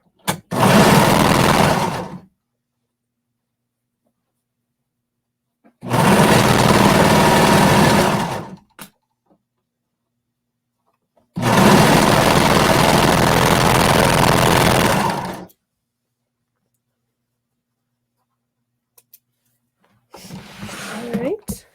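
Domestic sewing machine stitching a curved fabric seam on a bralette, running in three steady bursts of a few seconds each separated by silence, close and loud, with a short final burst.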